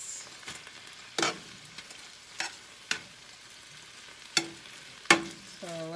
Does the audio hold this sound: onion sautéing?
yes